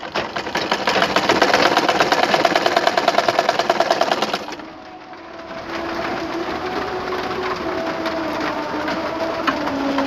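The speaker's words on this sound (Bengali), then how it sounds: "ধীরে ধীরে সেলাই করলে সেলাইটা সুন্দর হবে, তাই আমরা বেশি তাড়াহুড়ো করব না।" An electric sewing machine stitches fabric for a Quran cover, running in a steady rapid whirring rhythm for about four seconds, then stopping briefly before a lower, quieter hum carries on alone with no talk.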